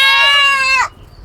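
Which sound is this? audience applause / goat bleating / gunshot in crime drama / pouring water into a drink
goat bleating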